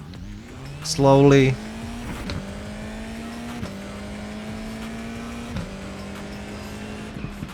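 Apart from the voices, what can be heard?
video game race car engine revving and launching with clutch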